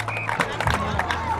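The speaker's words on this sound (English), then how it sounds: "It's good round of applause for the young Hastings East player." Crowd applause for a young Hastings East player during a CHB vs Hastings East tournament match, a steady patter of clapping running under a commentator's continuous talk.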